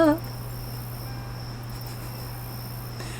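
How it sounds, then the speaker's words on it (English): Crickets chirp in the horror video game Homebody as a steady, unbroken insect trill that holds at an even level under a constant low hum, after a brief sound at the very start. "You hear the crickets? Yeah, I hear the crickets."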